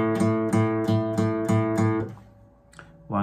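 The ten-note riff from INXS's Never Tear Us Apart is played on guitar, a steady, evenly spaced run of strummed chords, followed by a brief pause and a couple more notes, close and alone.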